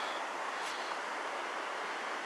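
Small rolling waves on the Nipissing River in Algonquin Park make a steady, broad wash of water noise, constant and fairly close, with no talk.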